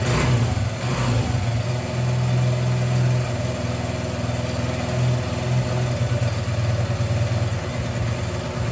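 A 1981 Honda XR100 motorcycle engine running at half choke just after a kick start, a steady close puttering idle with a brief rev at the start and slight wavering in pitch throughout.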